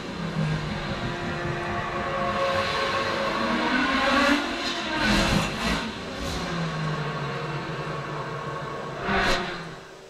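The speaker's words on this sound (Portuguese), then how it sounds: "Vou rodar com um carro de marcha manual, um carro antigo que eu gosto" An old manual-transmission car drives in Forza on a motion simulator platform, its engine a steady drone with shifts in pitch and a few brief revving swells, loud and continuous with no talk.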